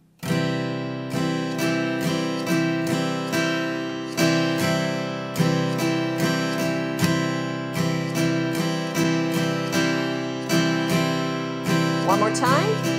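Acoustic guitar strumming the rhythm for a song, steady repeated chord strokes in a syncopated pattern over about thirteen seconds, close and alone with a brief slide at the end.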